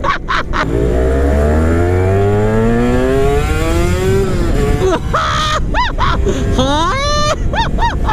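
A fully restored Honda NSR250R two-stroke motorcycle engine revs hard and climbs through the gears, loud and close, with sharp rising whines and quick throttle blips near the end.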